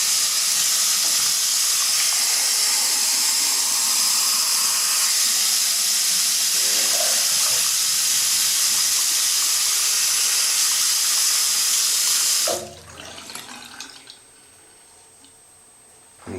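Hot water runs steadily from a tap for soap lather, a broad continuous rushing hiss that stops abruptly near the end, leaving a quiet room with faint clatter.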